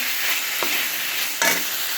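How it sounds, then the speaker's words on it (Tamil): Onions and tomatoes sizzle steadily in a hot pan, with a couple of scraping stirs from a spoon breaking through the frying noise. "ஆனியன் டொமேட்டோ வந்து நல்லா வந்து வதக்கணும்."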